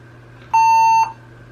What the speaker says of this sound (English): But it has stopped beeping